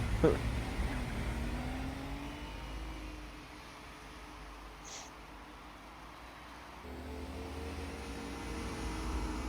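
A low Fiat car engine in Gran Turismo 4, driving on dirt, drones steadily, dipping in the middle and rising again, with a faint high whine at one point.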